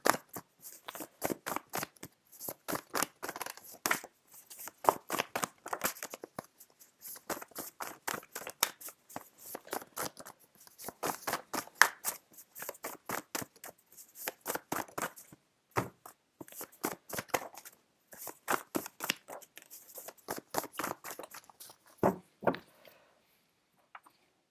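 Tarot cards are shuffled by hand in steady, crisp riffling bursts, close and fairly quiet, continuing with short pauses for about twenty-five seconds and no talking.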